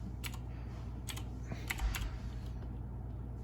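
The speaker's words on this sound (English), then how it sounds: "you can just type it." A few crisp, close computer keyboard keystrokes tap out over a low steady hum at a desk, with no talking.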